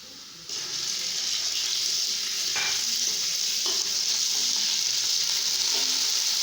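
Ginger-garlic paste hitting lightly browned onions in a hot pan, a bright, continuous sizzle that jumps up suddenly and holds steady, with faint stirring scrapes and no talking.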